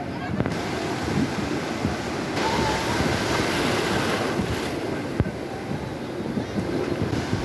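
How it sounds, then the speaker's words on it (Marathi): Sea waves roll and wash continuously onto the broad Malvan beach, a steady surf roar mixed with wind buffeting the microphone and faint people's voices in the background. "हा विस्तीर्ण असा आमचा मालवणचा समुद्र किनारा"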